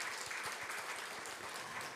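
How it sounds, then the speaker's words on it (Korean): Congregation applause at a Won Buddhist dharma service at Bukil temple, a thick, even wash of many hands clapping close and continuous throughout, with no voices over it. "박수."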